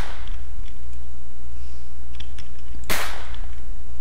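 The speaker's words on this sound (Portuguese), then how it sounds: "Vou tentar dar um tiro daqui" A single sharp gunshot cracks out near the end of a Minecraft game scene, loud and sudden above a steady low background hum.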